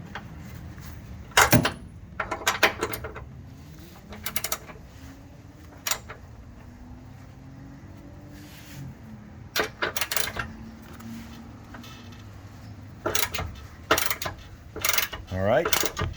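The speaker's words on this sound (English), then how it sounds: "you got to put that wrench on. You got to hold that, otherwise it's going to spin on you." A wrench turns a bolt off a heavy-duty ladder rack, producing scattered bursts of metallic ratcheting clicks and clanks with quiet pauses between them.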